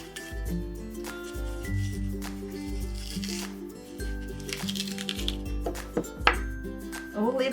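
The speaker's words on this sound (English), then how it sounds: "the apples, we're just going to cut and core them" Apples being halved and cored with a knife on a cutting board, a close series of firm thuds and crisp slicing crunches in an uneven rhythm, with soft clinks between cuts.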